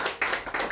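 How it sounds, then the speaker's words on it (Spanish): Applause from a church congregation during a sermon, a short burst of several quick overlapping claps, fairly close and alone. "Denle un fuerte aplauso al Señor por ello, hermanos."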